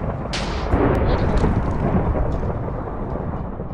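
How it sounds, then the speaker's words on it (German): Loud thunder rumbles and rolls over steady rain in a heavy Minecraft thunderstorm, with a sharp crack near the start followed by sustained booming. "Ich hatte noch nie so ein heftiges Gewitter bei Minecraft."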